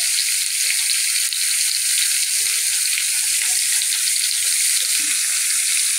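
Sour mango dish frying in a pan with salt added, a steady loud sizzle running throughout while it is stirred, with soft scraping bumps underneath.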